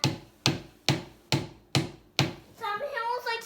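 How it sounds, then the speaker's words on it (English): A child hammers with steady, evenly spaced sharp strikes, six blows about half a second apart, close and fairly loud, followed by a brief burst of high, warbling sound. "Do you like hammering, Silas?"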